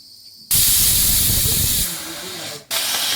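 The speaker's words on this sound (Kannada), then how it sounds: "2 ವಿಸಿಲ್ ಕೂಡ ಆಗಿದೆ." A pressure cooker releases steam in a loud, close, sustained hiss, with a brief break before the whistle resumes.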